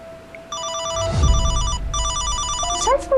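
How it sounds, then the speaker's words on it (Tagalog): A cellphone left behind rings with a bright, pulsing electronic ringtone in two bursts, loud and close, with a brief chime-like tone near the end and no talk. "Cellphone ba yun ni Mahal?"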